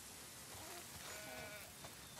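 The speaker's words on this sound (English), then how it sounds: "Wow, that's a lot of sheep" Sheep on a farm in The Last of Us Part II bleat faintly with a couple of short wavering calls over a soft rain-like hiss, with no talking.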